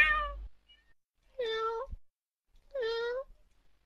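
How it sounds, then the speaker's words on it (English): Two clear, drawn-out cat meows, spaced about a second apart, follow a short burst of other sound at the start, with near silence between the calls. "Is that a cat?"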